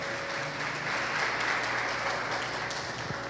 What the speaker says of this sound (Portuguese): Então vamos aplaudir o Senhor Jesus bem forte